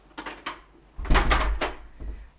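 Main entrance door of a Paris studio apartment swinging open, with a few soft knocks and handling clicks first, then a louder rumbling thud and rattle as the door moves, close by and with no talking.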